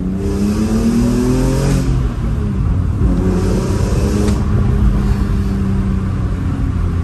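BMW M3 E46 revving hard and accelerating up close, a loud, sustained engine roar that climbs in pitch several times with brief dips between pulls.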